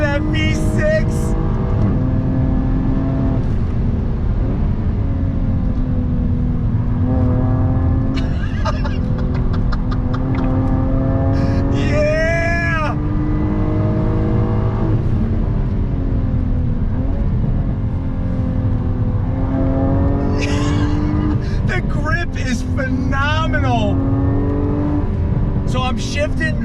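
Supercharged V6 of a 2021 Jaguar F-Type R-Dynamic with the top up, revving hard under throttle with rising and falling pitch as the 8-speed shifts, loud and continuous throughout, with occasional voice murmurs in the cabin.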